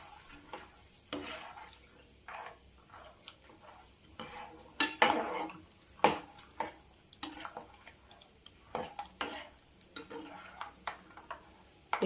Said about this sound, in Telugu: ఇక చూడండి చిట్టపట్లు ఆడుతున్నాయి.